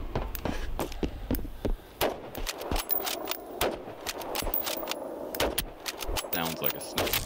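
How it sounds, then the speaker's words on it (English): Sniper rifle shots in the video game BattleBit Remastered crack out as a rapid series of sharp, loud reports with clicks and handling noises between them, close and dry. "It sounds like a real sniper rifle now."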